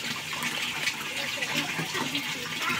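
Water from three filters pours into the waterfall of a tarp-lined koi pond, making a steady, close rush of splashing and gurgling with no pause.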